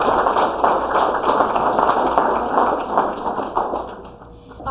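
Applause for student artists at a congressional art competition, a dense, continuous patter of many hands clapping close by that tapers off near the end.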